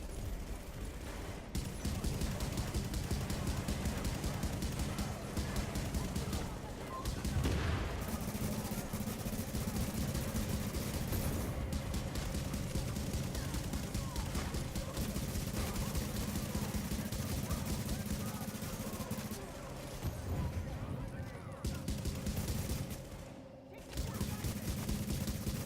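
Sustained gunfire from a weapon in The Division, a dense, loud crackle of rapid shots running nearly continuously with a few brief breaks, under a steady game soundscape.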